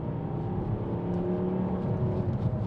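A 2013 Volvo V40 Cross Country D3 five-cylinder diesel accelerating with a steady, droning engine note heard from inside the car, continuous and moderately loud throughout with no talking.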